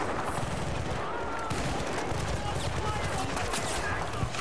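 Gunfire in the video game Battlefield: Bad Company 2 on a rain map, rapid bursts of automatic fire crackling close and continuous over rain-like hiss.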